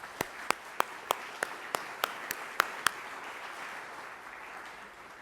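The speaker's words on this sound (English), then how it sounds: "So an applause for the people who have gone here so far." A sparse crowd at the opening event of a community center in Louisville claps in an evenly spaced run of about ten sharp claps. The claps fade into a soft murmur of room noise.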